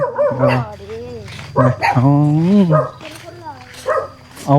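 A dog barks, yips and whines repeatedly at close range, loud and nearly continuous, with people talking around it.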